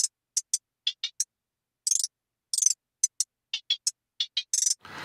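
A hi-hat pattern run through two flangers in a 180 BPM beat: crisp, bright ticks and short rolls in a syncopated rhythm, heard alone and fairly quiet.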